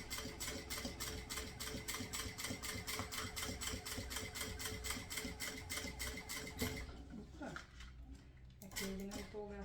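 Sewing machine running fast while stitching a multipurpose fabric pouch, a steady rapid mechanical rattle that carries on for several seconds before stopping, followed by quieter handling noises and a brief short burst of stitching.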